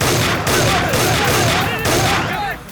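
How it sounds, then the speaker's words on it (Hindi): Gunfire in a dubbed South Indian action film, a loud, sustained barrage of shots with booming low rumble and whizzing sweeps over it, continuing almost without break before tailing off. "अरे लेकिन तू फायरिंग क्यों कर रहा है?"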